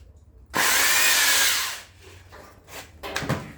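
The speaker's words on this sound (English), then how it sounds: "This is my granddad's drill." An old electric drill from 1987 or earlier, used on a BMW E30 M20B25 engine helicoil repair, whirs loudly at close range for just over a second, then winds down into quieter workshop clatter.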